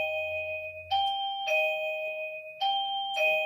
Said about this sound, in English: Someone's ringing the bell.